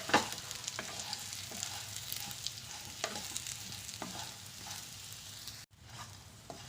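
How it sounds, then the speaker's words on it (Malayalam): Food made with bottle gourd is stirred and mixed in a hot pan, a spoon scraping in repeated strokes over a soft continuous sizzle, close and fairly quiet, with a brief dropout near the end. "എന്നിട്ട് നല്ലതുപോലെ യോജിപ്പിച്ച് കൊടുക്കാം."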